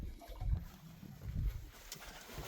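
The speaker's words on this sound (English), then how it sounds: "Yes, I know the birds are here." Pigeons or doves coo in two low, soft rounds near a waterside spot, with faint trickling water and light background noise between the calls.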